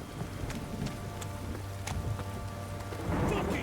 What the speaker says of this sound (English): If it don't stop raining, my arse will rot off.